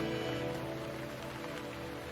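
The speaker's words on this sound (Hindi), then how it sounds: "रात का सन्नाटा, सिर्फ बारिश की हल्की सी बूंदें।" Light rain falls steadily as a sound effect in a horror narration, a soft continuous patter blended with low sustained tones and no voice.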